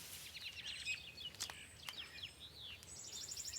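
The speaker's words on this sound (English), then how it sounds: "You guys hear a different bird every time I come on camera." Small birds chirp and twitter outdoors beside a garden planter, with repeated high calls and short trills coming from a little distance, a few sharp clicks among them and a faint steady hum of background noise.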